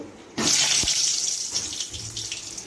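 Potatoes drop into hot oil and set off a sudden loud, steady hiss of frying that carries on for a couple of seconds, with a light clatter partway through.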